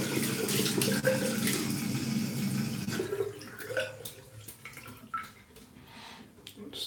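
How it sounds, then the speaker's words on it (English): Tap water runs steadily as a shaving brush is rinsed out after a wet shave, a broad continuous splash that thins and becomes more broken in the second half. "Brush, let me just wash the brush out."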